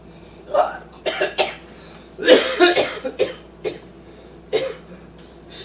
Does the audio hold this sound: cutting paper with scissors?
no